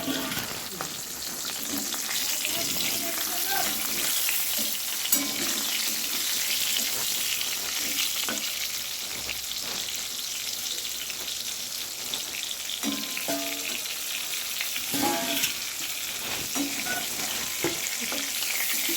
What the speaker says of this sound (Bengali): আমার এদিকে ততক্ষণে পটলগুলি ভালোভাবে ভাজা হয়ে গেছে।